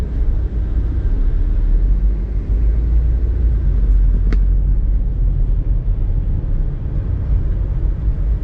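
Interior of a Proton Exora car driving on a road, a loud steady low engine and road rumble throughout with a single brief faint click midway, no talk.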